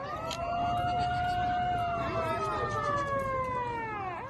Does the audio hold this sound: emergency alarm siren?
yes